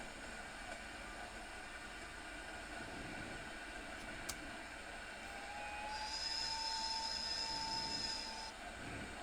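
A Krocodil electric locomotive on the Mittenwaldbahn route in Train Sim World 5 runs at around 70 km/h, a steady low rumble of rolling wheels with faint whining tones and a brief sharp click partway through, no talking.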